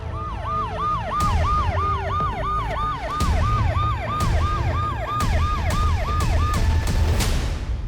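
A police car siren wails loud and close in a steady repeating up-and-down cycle, joined by a second higher siren tone, with short sharp horn-like bursts over a low engine rumble and no talk.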